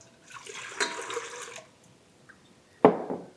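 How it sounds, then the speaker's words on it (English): Warm water is poured into a bowl for pizza dough: a short splashing pour, a pause, then a sharper louder splash and gurgle that trails off, close and without speech. "put some really warm water into a bowl"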